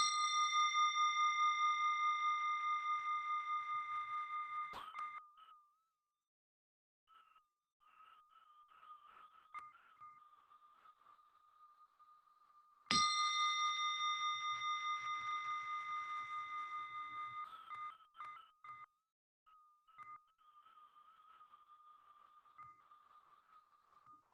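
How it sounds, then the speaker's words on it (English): A meditation bell rings twice, each strike a bright metallic clang with a long, slowly fading shimmering tone, the second strike coming about eight seconds after the first decays, with faint soft knocks between. "focus to this bell sound and follow the sound"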